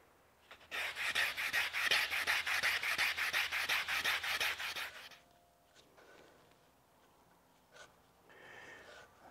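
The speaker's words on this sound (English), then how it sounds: "I'm just sanding the bolster part of the scales" Knife handle scales being hand-sanded at the bolster, a steady rhythmic back-and-forth rasp of fast close strokes for about five seconds, then stopping and leaving quiet room noise with small handling sounds.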